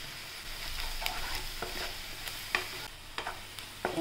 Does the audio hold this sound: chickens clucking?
no